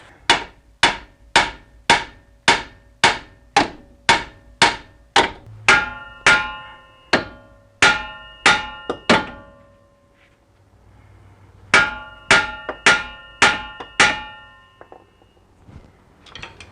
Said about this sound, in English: I'm gonna hit the thing that the ball joint is going through, which is this right here. And that'll separate the ball joint